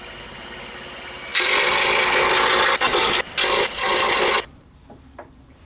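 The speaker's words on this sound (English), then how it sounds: "So we'll cut out piece number 1." A scroll saw rasps steadily through wood while cutting out a tray puzzle piece, with a few brief pauses before stopping, followed by faint handling sounds.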